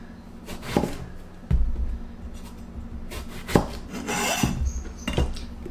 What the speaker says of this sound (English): So first we need to cut the eggplants.